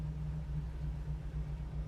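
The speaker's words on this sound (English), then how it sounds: "We just started the car, we'll monitor that throughout the test drive." A 1969 Chevrolet Camaro Z28-style car's engine idles just after starting, a quiet, steady low rumble heard up close with no talking.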